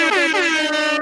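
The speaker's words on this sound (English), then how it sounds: "I don't know if y'all can hear the air horn, man." A loud air horn blares in one sustained blast at a Dallas Cowboys fan gathering, its rich stacked tones slightly wavering and holding steady for the whole second, close to the microphone.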